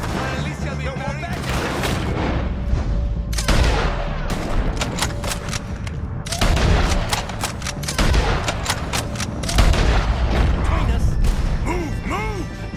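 Gunfire in a Red Dead Redemption shootout against the O'Driscolls: dense, loud volleys of rifle and pistol shots with ricochets and crashes, under shouted voices throughout.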